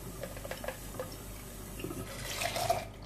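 Tap water runs and splashes while a MAM baby bottle is rinsed, faint and close at first, then a louder gush near the end of the short stretch.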